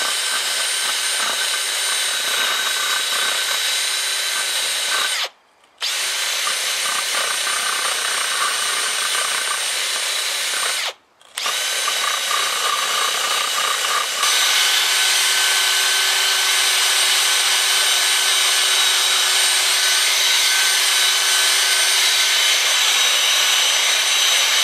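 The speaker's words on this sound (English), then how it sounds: "A wire brush with a handle, very good for getting little tricky areas." A handheld wire brush scrubs rust off a classic car wheel in a steady, harsh, rasping hiss, close and continuous, broken by two brief pauses, with no talking.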